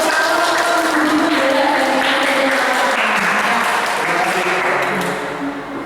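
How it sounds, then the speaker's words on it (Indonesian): A school audience at an SMP Terang gathering gives Pak Yanto a round of applause. Dense, loud clapping fills the room steadily, then thins and fades toward the end. "Kita bisa beri tepuk tangan dulu untuk Pak Yanto."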